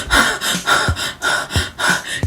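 A voice imitates heavy breathing just before orgasm, a close, loud run of about four deep rhythmic breaths with sharp gasping inhales, evenly paced and with no words spoken.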